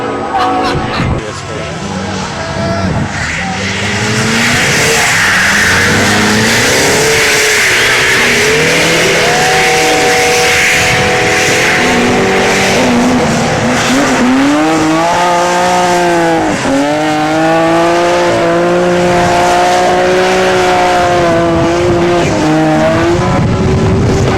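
A tuned car drifts on a race track, its engine droning loud and steady while long rising and falling tire squeals run across the middle and end, under continuous race commentary.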